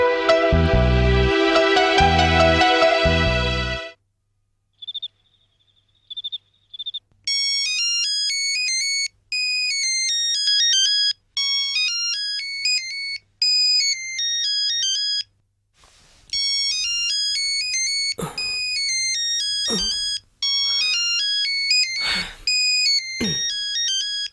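A mobile phone ringtone for an incoming call plays a bright electronic melody in repeated bursts separated by short pauses, loud and close, preceded by a dense musical passage and with some percussive knocks near the end.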